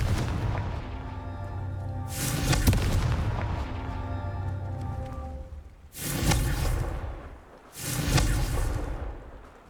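Confringo spell blasts in the Hogwarts Legacy video game burst three times as loud booming explosions over a steady low ambient drone.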